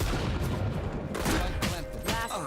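Gunfire bursts from a shotgun-wielding Sage in a Valorant match, loud dense blasts with sharp cracks near the start and middle, layered over game ambience.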